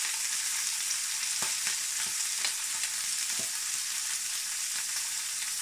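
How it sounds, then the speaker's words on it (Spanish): Queen scallops in their shells sizzle shell-side down on a very hot griddle, a constant bright hiss with occasional soft pops and crackles, no one speaking. "añadiremos las zamburiñas en la plancha y las ponemos por la parte de la concha"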